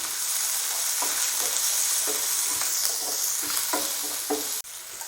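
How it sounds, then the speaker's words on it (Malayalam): Garlic, ginger and green chili sizzle steadily in oil in a pan while a spoon stirs through them with soft scraping strokes, the frying hiss continuous and close, with no talking. "വെളുത്തുള്ളി, ഇഞ്ചി, പച്ചമുളക് നമുക്കൊന്നിട്ടൊന്ന് ഇളക്കിയെടുക്കാം."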